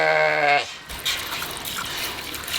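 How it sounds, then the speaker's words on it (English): A single loud, wavering bleat rings out at the start, then gives way to soft, drippy background noise. "I can hear the sheep bleating"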